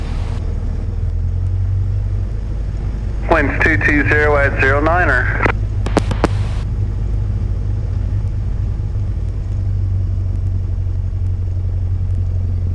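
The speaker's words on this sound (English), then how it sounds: "Skyhawk 5833 Juliet is taxiing to 19 from Albatross" A Cessna Skyhawk light aircraft's engine drones low and steady while taxiing at Beckley airport, a constant rumble with wind buffeting, as a radio voice briefly speaks over it partway through.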